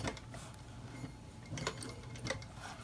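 Leather purse of brown water buffalo hide having a zipper sewn in, giving a soft mechanical ticking and clicking rhythm with repeated stitching pulses, steady and fairly quiet throughout.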